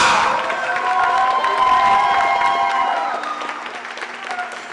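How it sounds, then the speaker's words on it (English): A crowd at a Philadelphia gathering bursts into applause mixed with cheers and whoops, loud at first and then tapering off over several seconds. "Give a round of applause. Put your hands together."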